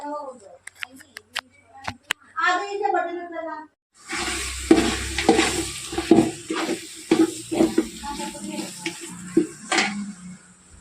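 Beef vada frying in a pan at home; a voice talks at the start, then a busy sizzle takes over, with frequent stirring clatter and scraping close by.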